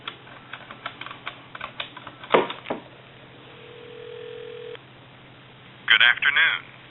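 A Princess touchtone telephone gives a steady dial tone and then a short burst of touchtone dialing beeps. Clicks and handling noises come first, and the tones sound thin and fairly faint over a line hiss.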